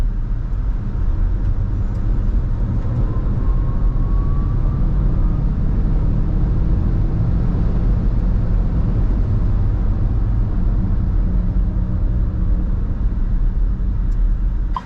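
Haval H6 GT hybrid car, a 393 hp model, at full throttle heard from inside the cabin: a steady, loud low rumble of engine and road noise builds without break and stays dense throughout.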